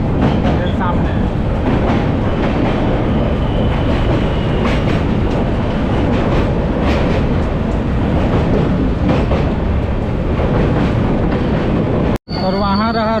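A West Bengal Sampark Kranti Express rolls loudly along the rails beside a road and metro line, with continuous wheel rumble and clickety-clack close by, ending in an abrupt cut near the finish.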